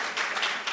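Crowd clapping in the audience of a literacy quiz contest final, a short burst of fairly even, moderately loud applause with a few louder swells.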